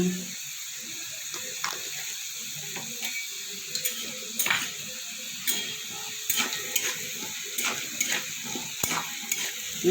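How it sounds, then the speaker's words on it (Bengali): Spices (black cumin seeds) crackle and sizzle steadily in hot ghee, with frequent clicking pops and light stirring scrapes throughout. "ফোড়নটা কয়েকক্ষণ ভাজা করে নিয়ে আমি"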